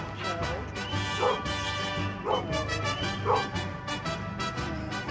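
A puppy barks and yips while playing, several short, sharp barks spaced about a second apart, close and fairly loud over a low background hum.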